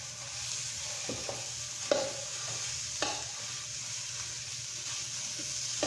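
Egg roll in a bowl filling, chopped meat being browned before the cabbage goes in, sizzles softly in a pan with a few sharp scrapes and taps of a utensil stirring, no one talking.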